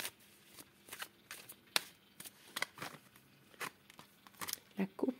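Tarot cards are shuffled and cut by hand in quiet, irregular bursts of riffling and papery slaps, separated by short pauses.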